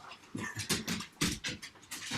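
Dogs shut outside a house pant and whimper in a steady run of short breathy bursts, fairly close and uninterrupted by talk.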